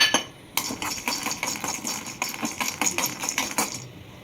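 Peanuts roasting and being stirred in a pan for gongura pachadi, a run of close, sharp clinks and rattles of nuts and utensil against metal that keeps going steadily after a brief quiet start.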